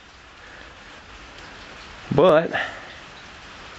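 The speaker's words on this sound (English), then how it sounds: "it is raining right now" Rain falls steadily during outdoor work on a 1434 jon boat, a faint continuous hiss under a short spoken word.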